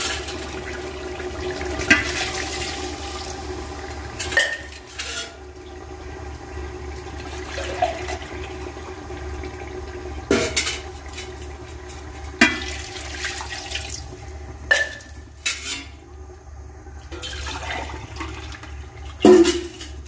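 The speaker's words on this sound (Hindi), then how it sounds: "पानी का हम डोल भर लैनी हूँ" Water gushes steadily into a container, a continuous rushing splash with occasional knocks and clunks, no voices.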